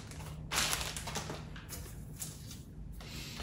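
Packaging of a Kindle Oasis e-reader being pulled out of its box, close scraping, crinkling and rustling bursts of cardboard and paper, no talk.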